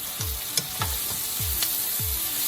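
Corned beef with sweet peppers and onions frying in a pan, a steady close sizzle broken by four or five scraping stirs at roughly even intervals, with no voices.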